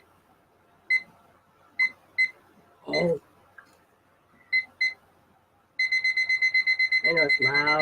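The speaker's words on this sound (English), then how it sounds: "I know it's loud. I gotta get a different timer." A timer alarm sounds as sharp repeated beeps, first scattered, then a continuous rapid pulsing run near the end; a person speaks briefly between beeps.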